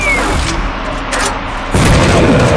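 Bomb blasts in the zombie video game Zombie Frontier 4, a loud sustained burst of booming explosions that swells sharply louder partway through, with no talk over it.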